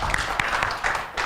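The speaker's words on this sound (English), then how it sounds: "give her one final round of applause" A short burst of audience applause at a pitch competition finals event: a diffuse wash of many hands clapping, moderately loud and continuous for about a second.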